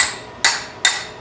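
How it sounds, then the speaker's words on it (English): A wide-face hammer strikes a car body panel during patch work around the headliner bow, three sharp metallic blows about 0.4 seconds apart, loud and close, each ringing briefly. "I grabbed my wide face hammer"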